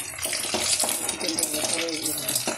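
Rose water and kewra water are poured into a simmering chicken chaap masala in a pan, a brief splashing trickle over soft sizzling, with a voice talking over it.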